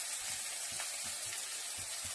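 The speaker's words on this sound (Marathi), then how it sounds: "हा बारीक चिरलेला कांदा घालायचा" Finely chopped onion added to hot tempering oil in a pan, giving a steady soft sizzle and hiss with faint low clinks, no talking.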